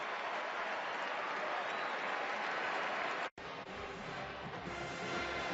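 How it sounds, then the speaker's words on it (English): A stadium crowd applauds at a college football game, Oklahoma versus Baylor, in a dense sustained wash of clapping that cuts out abruptly for an instant, then resumes slightly quieter. "now they applaud as Seastrunk's able to get up"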